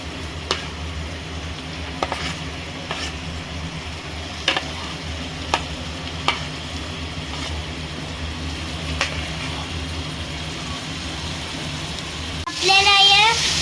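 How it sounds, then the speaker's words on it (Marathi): Carrot and cabbage fry in a pan for pasta, giving a steady low sizzle with regular soft clicks and scrapes from stirring, then a brief louder rustle at the end. "सगळ्या भाज्या मस्तपैकी फ्राय करायचे मस्तपैकी फ्राय झालेल्या आहेत"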